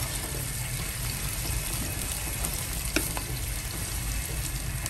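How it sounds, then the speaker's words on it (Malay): Garlic and onion sauté in a pan for sambal, giving a dense, even sizzle of hot oil that holds steady throughout, with one faint scrape midway and no talking. "Saute until the onion turn brown"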